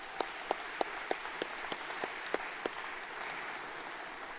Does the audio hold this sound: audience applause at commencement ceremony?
yes